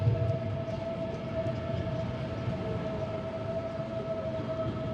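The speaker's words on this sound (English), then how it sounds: "Our train's coming." Portuguese train arriving at a station: a steady rumbling roar with a sustained tonal whine from the approaching train, continuous and fairly loud for the whole stretch, no talking.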